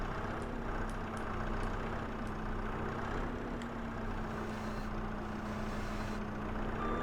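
A skid loader's engine drones steadily while driving in Farming Simulator 25, a constant mechanical hum with a few faint high beeps and clanks early on, no talking.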